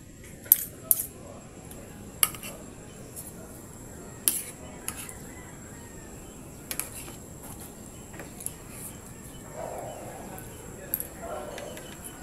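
Dishes and cutlery clink from people washing up nearby, scattered sharp metallic taps and clatters over a low background hum.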